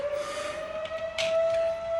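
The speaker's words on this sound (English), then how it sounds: "there's a fucking siren." A siren sounds outside, a sustained, nearly steady wailing tone held throughout, moderately loud with no voices.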